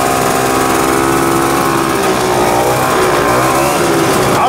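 Historic moped engine on a test bench, revving hard and loud at close range with a dense, buzzing two-stroke rasp that holds steady throughout.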